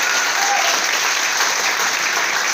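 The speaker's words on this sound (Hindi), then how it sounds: "पहले ताली तो बजने चाहिए ना" An audience at a business seminar bursts into steady, dense applause, loud and continuous throughout with no talking over it.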